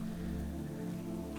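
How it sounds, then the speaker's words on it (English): A nature rain sound effect used inside a music production mix, with the low end left in: a brief, steady wash of rainfall hiss over a full bottom-heavy layer, without any voices. "Just because it's kind of like a nature rain sound"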